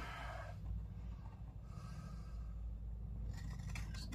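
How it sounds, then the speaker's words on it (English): Big scissors snip and scrape through material nearby, a few crisp cuts against quiet background hiss. "Let me grab my big scissors."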